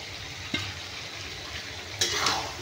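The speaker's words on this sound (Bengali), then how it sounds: "এরপর আমি আলু, ফুলকপি ভাজাটা আমি দিয়ে দেবো" Fried cauliflower and potato pieces are tipped into a cooked-down masala for a rustic village-style cauliflower omelette curry, giving a steady close sizzle with two sharp stirring scrapes and clatters, no talk.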